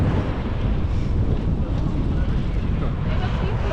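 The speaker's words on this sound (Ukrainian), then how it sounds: "Щось стало прохолодніше, вітер ще з'явився." Gusty wind blows hard against the microphone, a constant low rumbling buffet with no pauses.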